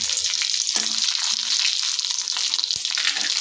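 Cumin seeds, bay leaf, cinnamon and cloves sizzle in ghee and oil for jeera rice, a steady bright hiss lasting throughout, with a few soft clinks of a utensil, close and without speech.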